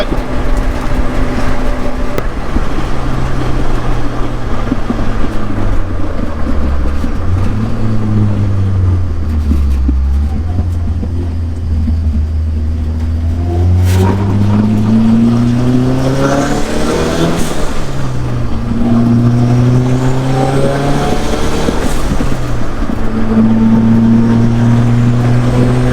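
A pink Barbie toy tracker fitted with a broken-off turbo revs its engine loudly and close, rising and falling through repeated throttle pulls with a roaring, whining tone and no talk over it.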